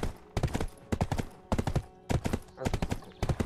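Hooves of a black horse trotting in the video game Black Desert, a steady rhythmic clip-clop in short bursts with brief pauses, close and clear.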